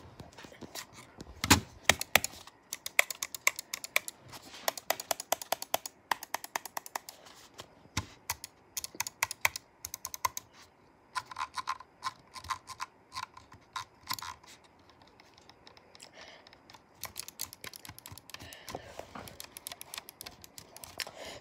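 Glorious Model O computer mouse buttons clicked over and over, sharp close taps coming in quick bursts and irregular runs with brief pauses, no talking.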